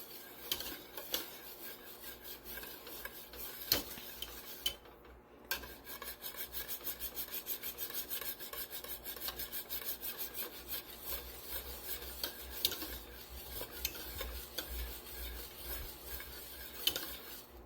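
Cream cheese being stirred into broccoli cheddar soup in a pot, a spoon scraping and rubbing continuously with occasional clinks against the pan, quiet and close with no talk.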